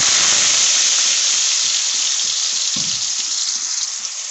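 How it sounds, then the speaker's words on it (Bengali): Cut potatoes frying in white oil in a wok, giving a loud, dense, continuous hiss that fades slightly toward the end, with a soft bump near the middle and no talking. "ভুড়ির আলুটা ভেজে নেবো, তার জন্য দিয়ে দেবো কড়াইয়ে সাদা তেল।"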